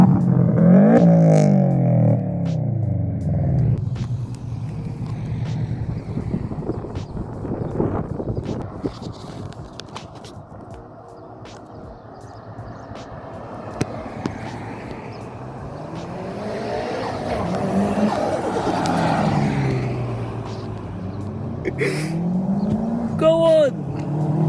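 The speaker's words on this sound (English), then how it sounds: "Rev it!" A Subaru car engine revving nearby, with rising and falling pitch sweeps that climb and drop twice, heard over wind noise and people talking.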